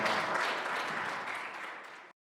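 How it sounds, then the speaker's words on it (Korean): Audience applause welcoming a performer to a study-group gathering, a dense, steady burst of many hands clapping at close range that lasts about two seconds and then cuts off abruptly. "큰 박수로 환영해 주시면 감사하겠습니다."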